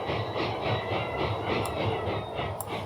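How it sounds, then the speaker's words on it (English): A freight train in the EEP 15 railway simulation game pulls into a small-town station. Its wheels make a steady, rhythmic clickety-clack over a loud, continuous rolling rumble, with no voices. "we arrive in Farmington."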